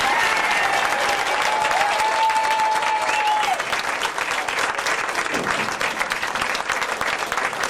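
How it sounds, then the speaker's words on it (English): Sustained applause from a crowded room at a retirement party, steady dense clapping throughout with a faint tonal whistle or feedback briefly audible early on, easing slightly toward the end. "can we give a round of applause for all the people who came up here?"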